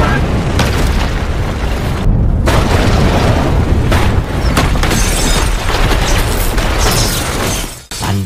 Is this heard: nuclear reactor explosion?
yes